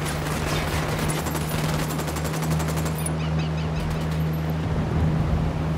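Sustained rapid automatic gunfire in the video game Ghost Recon Wildlands, dense bursts of shots over a steady low engine drone, loud and close with no talk.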